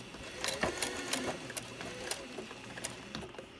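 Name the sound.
sewing machine stitching a straight seam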